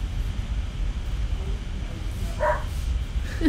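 A dog barks a few short, sharp times at a man scolding her indoors, somewhat distant and mixed with background rumble and a voice.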